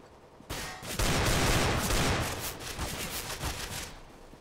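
Dense gunfire in a Counter-Strike: Global Offensive deathmatch: a rapid, continuous volley of overlapping shots, loud and close, with no voices.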